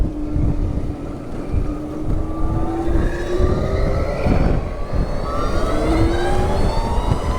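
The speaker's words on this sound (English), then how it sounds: "There's a sort of Star Trek whir is the only sound you get" A Zero DSR/X electric motorcycle gives off a steady whine while riding, with rising and falling tones that sweep over a continuous bed of wind and road rumble.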